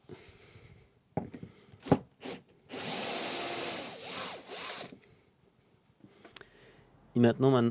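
A cordless screwdriver works a screw into wood in short bursts, then a sustained loud whirring run of a few seconds, with scraping and handling noises between; a voice speaks briefly at the end.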